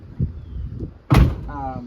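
A car door swings shut with a single solid thump, close and loud, followed by a brief rattling hum.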